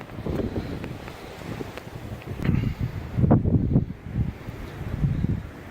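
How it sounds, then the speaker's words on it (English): Strong wind gusts across a garden in Normandy, buffeting the microphone in low, rumbling surges that swell and ease, loudest in the middle stretch, with no voices. "it's very windy here"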